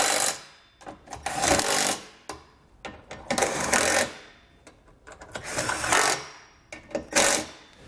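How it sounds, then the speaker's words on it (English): Bolts on a Stealth Hitches hidden rack receiver on a 2017 Audi are tightened with a 13mm socket, giving repeated close ratcheting bursts in an uneven rhythm, with no talk. "We can then go back and tighten them down using a 13mm socket."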